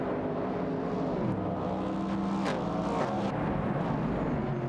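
Dense engine drone from video game race cars, among them a 1969 Chevrolet Camaro and a Ford Falcon, held steady throughout with shifting pitch and brief rising revs, loud and close with no talk.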